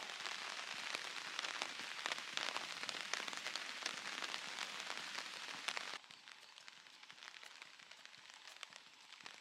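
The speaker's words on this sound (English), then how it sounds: "Starting to get some sprinkles of rain." Light rain sprinkles falling outdoors on a hike in Japan, a dense steady patter of drops that eases to a softer, thinner hiss partway through.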